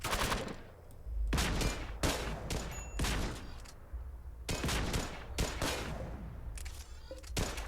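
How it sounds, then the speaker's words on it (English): Gunfire rakes an auto mortar in the RimWorld video game, with several sharp bursts of rapid shots separated by short gaps, fairly quiet overall. "if we can get in on the inside of it and just shoot up this auto mortar"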